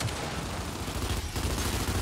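Continuous dense gunfire in the video game Gears 5, a steady, loud wash of rapid shots and blasts across the whole stretch with no one talking.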